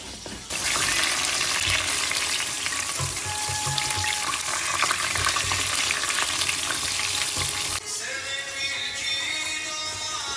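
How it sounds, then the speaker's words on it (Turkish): Peppers sizzle and fry in a pan with tomato sauce in a home kitchen, a loud continuous crackle with stirring that drops abruptly to a softer simmer near the end. "Biberleri atayım. Biberler de mi kavrulsun?"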